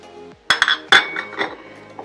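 A few small clinks and rattles as black peppercorns and other dry spices spill against a metal pot, two quick bursts close together, then a softer patter.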